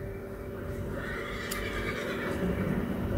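A horse in Red Dead Redemption 2 gives a clear whinny over a steady low background hum, mid-loud and close, with faint hoof clatter.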